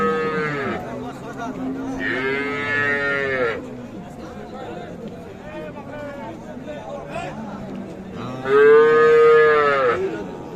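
Cows moo loudly several times, long drawn-out calls close by, amid the chatter of a crowd at a busy cattle market in Ambari, Bangladesh.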